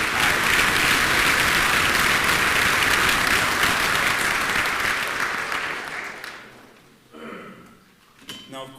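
Audience applause at a community college commencement ceremony, a sustained loud burst of clapping that fades out over several seconds, with faint clinks afterward.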